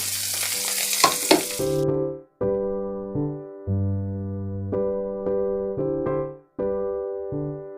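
Chopped onion and slit green chili hit hot oil with browned garlic, giving a loud, dense sizzle for about two seconds before music takes over for the rest.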